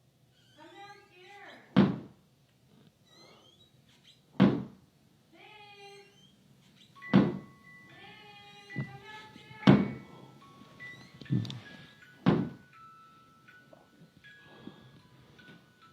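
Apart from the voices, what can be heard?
something slamming against a door at night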